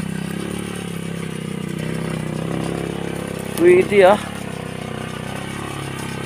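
A customized motorcycle converted into a tractor plows a field, its engine chugging steadily and close throughout, while someone speaks briefly partway through.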